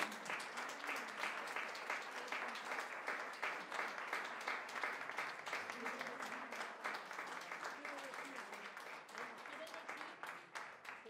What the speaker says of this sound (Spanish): ya le damos un aplauso a Ángel.